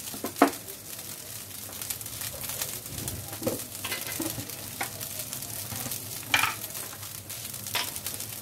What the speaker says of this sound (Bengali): ঘিতে আর বাটারে একটুখানি ভেজে নিলাম